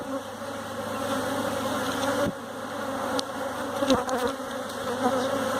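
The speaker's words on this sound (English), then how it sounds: "Workers are the only bees most people will ever see flying around outside the hive." Honeybees buzz around an open hive during an inspection, a steady dense drone of many wings filling the space close by, with a few faint clicks and bumps of handling over it.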